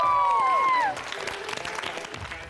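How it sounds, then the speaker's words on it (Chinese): Applause and cheering break out at a variety show after a bright whistle-like tone gliding downward fades; then scattered clapping and excited crowd noise continue at moderate level for the rest of the moment. "掌声和尖叫声！"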